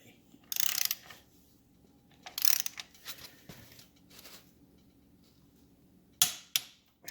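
A torque wrench tightens the top rear motor mount nut on a 1974 Norton Commando, giving a few short, bright ratcheting clicks in separate bursts against a quiet workshop background, with faint mechanical handling between them.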